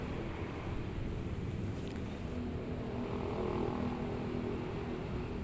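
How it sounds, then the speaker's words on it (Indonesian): A Hino AK3HR bus with an Aristo body from Karoseri Armada Magelang accelerates to overtake, its engine a broad, steady roar mixed with heavy wind and road noise heard from inside. "bus sudah mulai berjalan cepat ini Mas Guys, mengovertake ini Mas Guys"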